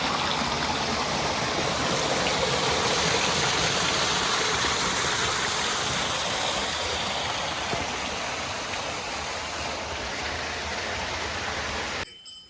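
Water pours steadily out of rock at a hillside temple in Peddapalli, a loud, continuous rushing wash that holds for twelve seconds with no voices.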